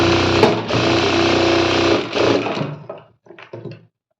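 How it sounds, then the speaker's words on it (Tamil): A sewing machine runs in a steady close whir while stitching a blouse seam, pausing briefly, then making a few short stitch bursts before it stops. "இந்த மாதிரி 2 தையல் நீங்கள் வந்து போட்டுக்கோங்க"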